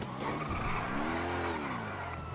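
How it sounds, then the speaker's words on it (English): Car tires squeal and skid in a long sliding screech within a police roleplay driving game, with steady engine drone beneath, loud and continuous throughout. "Why is my car sliding like this, man?"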